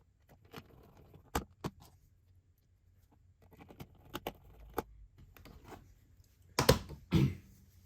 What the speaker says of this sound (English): Now we replace security screws.